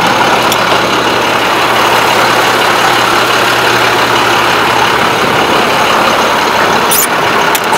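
A 2004 Blue Bird International 3800 school bus idles with its hood open, a steady, continuous low engine rumble that stays even throughout, with no talking.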